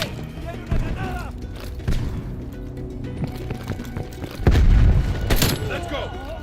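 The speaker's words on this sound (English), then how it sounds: "Throwing grenade!" A heavy grenade blast in Call of Duty Black Ops Cold War lands midway as a deep, loud boom over steady battle noise, scattered gunfire and clatter, with in-game soldiers shouting throughout.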